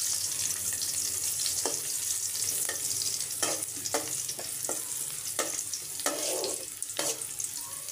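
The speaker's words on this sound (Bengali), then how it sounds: "এখন এগুলোকে একটু লাল করে ভেজে নেব" Bay leaf, dried red chili and garlic frying in hot oil, a steady close sizzle broken by scattered spoon clinks against the pan.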